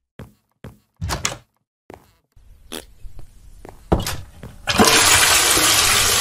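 A blocky Minecraft toilet is flushed: a few soft clicks and thunks give way to a sudden, loud rushing swirl of water that fills the last second and a half.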